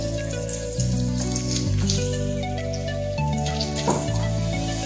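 Onions and green chillies sauté in a pan, a steady close sizzle and crackle running throughout under faint background music, with no talk.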